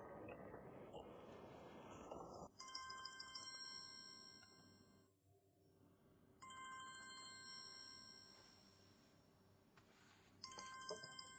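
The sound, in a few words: telephone ringing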